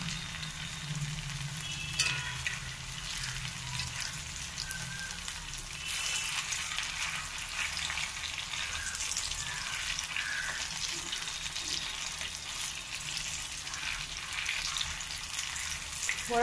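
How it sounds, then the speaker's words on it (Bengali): Jackfruit seed pakoras deep-frying in oil over medium heat give a steady, close sizzle and crackle that runs throughout with no one speaking. "মিডিয়াম আঁচে ভেজে নিতে হবে, না তো উপরে ভাজা হয়ে যাবে, ভিতরে কাঁচা থাকবে।"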